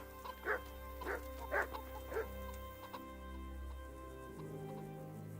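Dog barking in the medieval role-playing game Kingdom Come: Deliverance, four clear barks spaced about half a second apart over a steady low ambient drone, then a quieter tail with a faint yip near the end.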